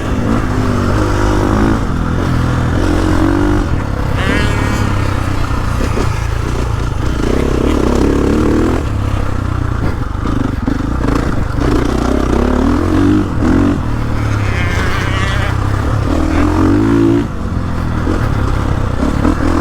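A 2021.5 KTM 450SXF Factory Edition dirt bike rides continuously, its four-stroke engine loud and close, revving up and down and barking through shifts throughout, with no talking.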